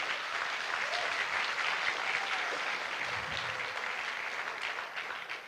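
A church congregation claps together in sustained, dense applause that holds steady for several seconds and fades slightly at the end, with faint voices mixed in.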